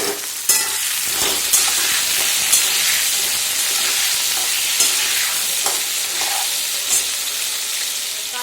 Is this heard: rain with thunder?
no